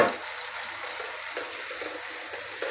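Fish frying in a pan for a homestyle fish fry, giving a steady, moderately loud hiss and crackle of hot oil throughout with a few soft stirring clatters and no speech.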